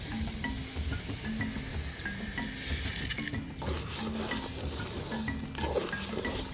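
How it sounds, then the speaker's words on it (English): Rice and sliced onion sizzle steadily in hot vegetable oil while a utensil scrapes and stirs through them repeatedly in the pan, close up, with no talking. "Stir, add the rice and mix."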